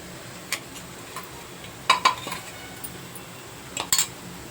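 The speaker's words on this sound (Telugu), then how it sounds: "ఇప్పుడు ఇది మొత్తం గోంగూర మనం వేసుకున్న ఈ కారం పొడి బాగా కలిసేలా కలిపేసుకోవాలి" Ground chili-garlic powder is stirred into gongura pickle in a bowl, making scattered light clinks and scrapes of a spoon against the bowl. A few sharper clusters stand out over a quiet background.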